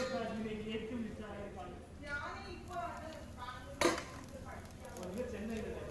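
A spatula scrapes and taps around the edges of a rava dosa to loosen it from the pan, giving faint metallic scrapes with one sharper clink under steady talking.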